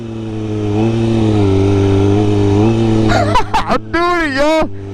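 A motorcycle engine holds a loud, steady drone near the mic on a street during wheelie riding, then breaks into choppy surges and wavering revs at the end, with a voice talking over it.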